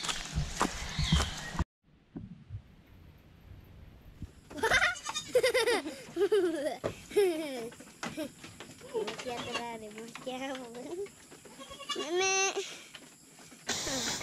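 Goats being fed molasses, salt and vitamins on a farm bleat repeatedly in wavering cries close by, mixed with footsteps and shuffling, while a person talks between the calls.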